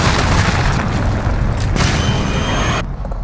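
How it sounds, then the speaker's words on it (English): A loud, deep enemy cruise missile explosion in the Modern Warfare shooter game: a sustained booming rumble that fills the whole clip with heavy low-end roar, surging again partway through before easing off. "Enemy cruise missile incoming."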